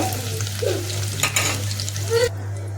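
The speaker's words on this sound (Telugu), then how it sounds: "ఎండుమిర్చి వేసిన" Two dried red chillies crackling in hot oil with onion for a tempering, a close, steady sizzle broken by a few stirring scrapes and light clinks before it cuts off.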